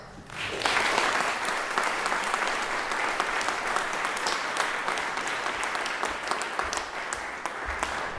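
Steady applause and cheering from a ceremony audience as a graduate in Computer Science and Art is called at the 2017 BXA diploma ceremony, a dense, even roar of clapping sustained for several seconds.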